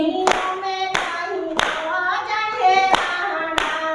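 Hands clap in a slow, steady rhythm during a Gujarati kirtan, six sharp claps spaced about two-thirds of a second apart, over a sustained sung or harmonium-like melody.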